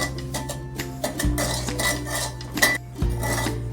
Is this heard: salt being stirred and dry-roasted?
yes